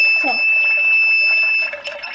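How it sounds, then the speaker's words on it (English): A water level sensor device sounds its audible alarm, a steady high-pitched electronic tone that holds continuously, with a person talking faintly underneath it. "this is the the alarm it has the audible alarm and the visual alarm"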